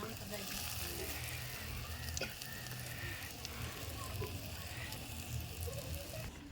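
An egg omelet sizzles in a hot pan in a village kitchen, a steady faint frying hiss with small crackles throughout and no one talking over it.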